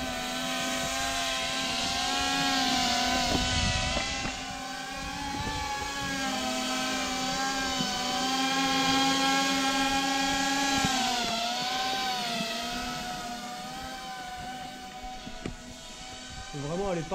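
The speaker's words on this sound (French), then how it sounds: "on vole à vue avec un drone racer, c'est pas forcément facile" A Smooth Vortex cinewhoop FPV racing drone flies continuously with a loud, steady high-pitched motor whine whose pitch rises and falls as throttle changes.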